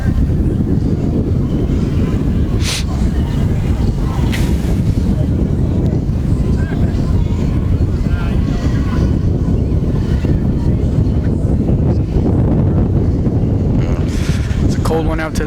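Strong wind buffeting the microphone on a cold, windy day at an outdoor football game, a constant loud roar and rumble with brief louder gusts throughout.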